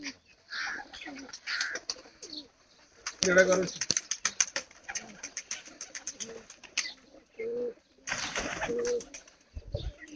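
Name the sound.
pigeons cooing and flapping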